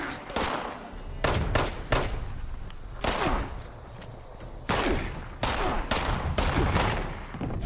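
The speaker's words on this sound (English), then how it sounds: "somebody in the church shooting at someone" Bursts of gunfire ring out from a church in the PC game Fallout 76, several rapid volleys of shots with short quiet gaps between them, loud and fairly close.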